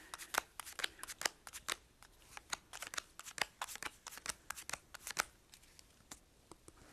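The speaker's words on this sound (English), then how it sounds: "You deal out 2 piles of 7 cards." Playing cards from four combined decks dealt one at a time into two piles of seven for a game of Hand and Foot, a quick run of crisp, close card snaps and flicks with no talk.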